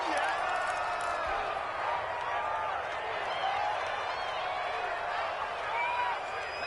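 A stadium crowd roars in a PS4 football video game, a dense, steady wash of cheering and murmuring that fills the background while voices talk over it.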